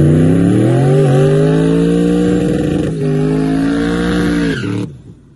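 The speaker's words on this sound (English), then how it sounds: "Thing does a nasty big tire burnout down the street." A Chevrolet Camaro drag car does a big tire burnout on the street, its engine roaring loud and sustained with a steady climbing tone and a brief dip midway before cutting off abruptly.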